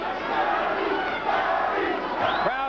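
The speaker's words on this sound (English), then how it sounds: "Crowd is lifting Arturo Gatti" Boxing arena crowd roaring and cheering throughout a bout featuring Arturo Gatti, a loud, dense, sustained wall of voices with swells and rising shouts near the end.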